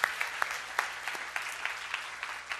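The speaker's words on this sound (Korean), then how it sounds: "다시 한번 뜨거운 격려의 박수 부탁드릴게요." A church congregation gives a sparse round of applause, a handful of distinct claps repeating at an uneven rhythm, fairly faint and distant in a quiet hall.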